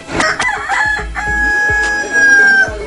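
A fighting rooster crows loudly and close by, with hens clucking around it and a few sharp bursts of noise in between.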